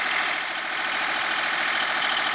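A Komatsu PC30 mini excavator's engine runs at a steady, even drone throughout, close and fairly loud, with no talk over it.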